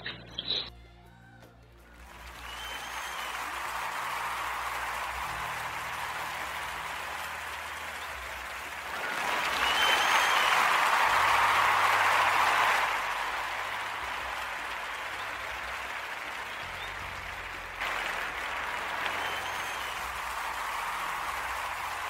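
A long, even wash of applause during a Portuguese radio podcast program, like steady rain at moderate volume, swelling louder for a few seconds in the middle and again near the end.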